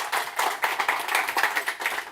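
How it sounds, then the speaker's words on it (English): Short burst of audience clapping for gentlemen on stage at a talk on a free trade agreement with Brazil, brisk and fairly close, lasting about two seconds. "So very much an applause to the gentlemen."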